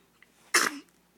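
A baby's single sneeze, a short burst close by and fairly loud, set against a quiet background.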